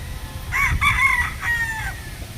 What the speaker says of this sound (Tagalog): Malakas ang manok pagka walang puno.